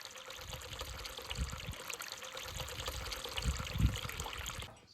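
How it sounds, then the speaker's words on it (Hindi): Lukewarm water poured into a bowl of sugar and yeast in a home kitchen, a soft continuous trickle with a couple of brief splashy surges before it stops near the end. "डाल रहे हैं इसमें हल्का सा गुनगुना पानी"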